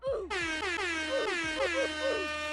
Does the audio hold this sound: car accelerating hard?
no